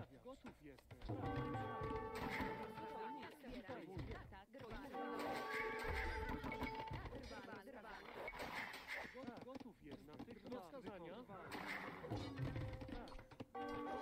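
Horses in the strategy game Age of Empires II give repeated high, wavering neighs and whinnies over busy game sounds, with a person talking almost throughout.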